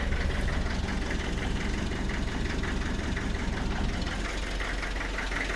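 A Land Rover 90 diesel engine idles just after starting, a steady knocking rumble with a regular beat, close and loud, running evenly without any voices.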